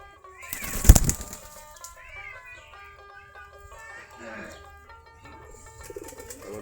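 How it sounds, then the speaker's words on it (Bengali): Native Giribaz pigeons feeding: a sudden burst of wing flapping up close, followed by soft scattered cooing and light rustling at a quiet level. "আমাদের দেশি গিরিবাজ কবুতর খাবার খাচ্ছে"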